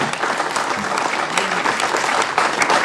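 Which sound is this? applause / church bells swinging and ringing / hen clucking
applause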